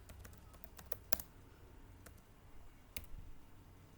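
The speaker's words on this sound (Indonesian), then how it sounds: "kita ketikkan perintah interface" Keystrokes on a computer keyboard while entering a router interface configuration command, a quiet run of sharp clicks with a few louder taps standing out, no talking.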